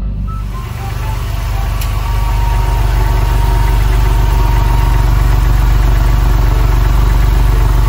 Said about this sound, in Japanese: コールドスタート時のエンジン音もとても静かです